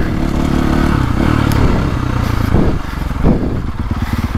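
A KTM 450 motocross motorcycle is ridden close by, its loud engine roaring steadily and then dropping into a choppy, pulsing idle-like rumble with some clatter.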